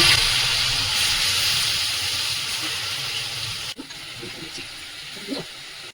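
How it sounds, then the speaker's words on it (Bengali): Bowl-rinse masala water poured into a pan of katla fish cooking on low heat for doi katla, a strong broad hissing splash that fades slightly, then a few soft clinks and stirring knocks, close with no talk. "যেটা বাটি ধোয়া জল মশলাটা ছিল সেটা আমি ঢেলে দিলাম"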